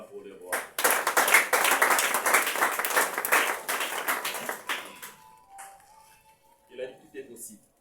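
A church congregation bursts into applause, a loud, dense wash of clapping that lasts several seconds and then thins out and fades, leaving a few quieter sounds.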